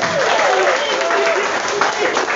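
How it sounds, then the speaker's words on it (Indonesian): Applause for a parking attendant at a Catholic youth public-speaking event, dense and steady with voices faintly mixed in, filling the whole moment. "Tepuk tangan untuk tukang parkir."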